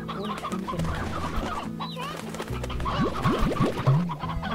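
Chickens cluck and squawk in the video game Slime Rancher, a few short calls rising over a steady game soundscape with no talk.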